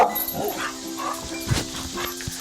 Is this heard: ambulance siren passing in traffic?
no